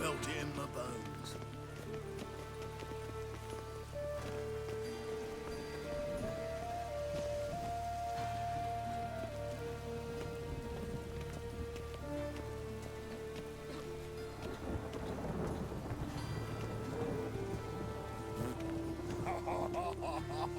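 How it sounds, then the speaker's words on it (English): Steady rain falls in The Witcher 3 video game, a soft, constant patter under sustained musical tones, with no clear thunder. "It just rains and rains."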